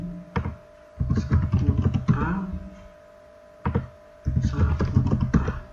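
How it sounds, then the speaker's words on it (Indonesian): Keys on a computer keyboard are tapped in two short bursts of quick clicks, separated by a pause, with a person speaking over the typing. "kita ketik lagi Saputra, Andi"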